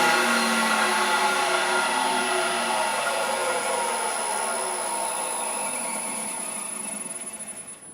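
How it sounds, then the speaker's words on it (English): A 3/4 inch roughing gouge cuts a spinning pen blank on a wood lathe, making a steady, loud whirring scrape with a continuous hum, fading slightly toward the end. "that's using a whacking great 3/4 inch roughing gouge"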